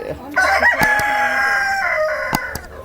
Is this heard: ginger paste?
no